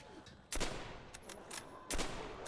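Bursts of video game gunfire from World at War Zombies on Xbox 360, two loud sharp volleys about a second and a half apart with scattered fainter shots between them.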